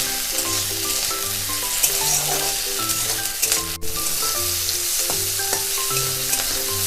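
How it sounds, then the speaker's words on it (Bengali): Whole spices (bay leaf, cloves, cardamom, cinnamon) frying with onion, ginger, garlic and chilli in a pan for Bengali black pepper chicken, a steady close sizzle with scraping stir strokes throughout. "যে গোটা গরম মশলাগুলো আমি রেখেছিলাম তেজপাতা, লং, এলাচ, দালচিনি, সেগুলো এর মধ্যে দিয়ে দেব"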